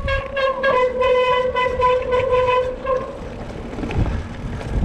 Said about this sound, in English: Fairly noisy brakes.